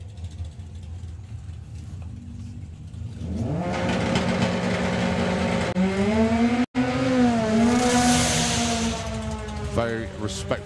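A doorslammer drag racing car launches down the strip, its engine note climbing from a low idle into a loud, sustained rising roar with gear-change dips, heard close amid crowd noise and under a commentator's voice.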